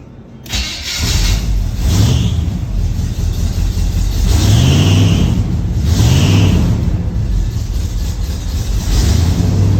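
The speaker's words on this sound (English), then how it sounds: "Engine's a little cold, but" A 1980 GMC truck engine, running cold, idles and revs up loudly and close, with a few rising and falling surges over a steady rumble.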